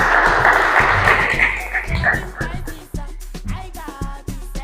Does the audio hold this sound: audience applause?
yes